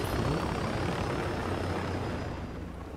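A helicopter in the video game Ghost Recon Breakpoint makes a steady, loud whirring rotor and engine drone that fades slightly toward the end, with no talking.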